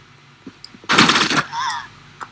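Gunfire from guns in the Roblox Arsenal video game: a short burst of rapid, loud shots lasting about half a second, followed by a whining electronic tone and a few scattered clicks.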